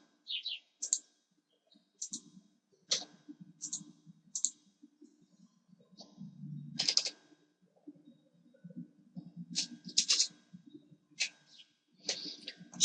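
Keystrokes on a computer keyboard click in short irregular bursts and single taps, close and fairly quiet, with soft murmuring voice sounds between them.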